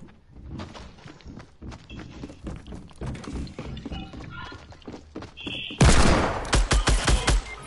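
A burst of gunfire from a legendary weapon in the video game Fortnite rips in loud and close near the end, several sharp shots after quieter game ambience and footsteps.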